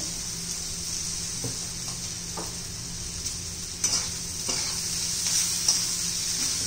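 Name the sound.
stirring roti noodles in a pan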